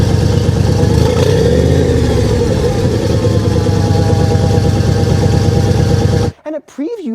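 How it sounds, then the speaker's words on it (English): A Chevrolet Corvette twin-turbo AWD concept car idles loudly with a steady, deep exhaust rumble close by, then cuts off abruptly near the end, after which brief talk follows. "We got an exhaust clip. They started it up for us so we could see."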